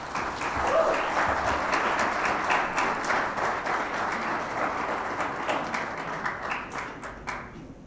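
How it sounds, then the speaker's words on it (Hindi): A conference audience at Digital Vision in Pakistan applauds steadily, a dense wash of many hands clapping that fades out toward the end. "आपकी पुरजोर तालियों में तशरीफ लाती हैं"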